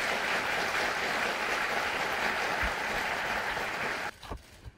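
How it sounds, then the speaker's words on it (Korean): Audience applause at a justice minister's inauguration ceremony, a dense sustained wash of clapping from a large hall crowd that stops abruptly near the end, leaving a few faint scattered sounds. "여러분 호응의 박수 한번 해주시기 바랍니다."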